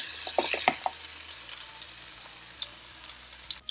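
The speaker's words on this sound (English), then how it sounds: "saute my seasoning in the pot" Seasoning with garlic sautéing in coconut oil in a pot, a few clinking stirs at the start and then a low, steady sizzle, close and fairly quiet, with no one talking.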